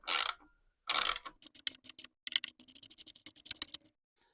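Number 10 nuts being snugged up on a generator, heard as two longer rasps followed by rapid bursts of ratchet clicks, close and crisp with brief gaps between runs.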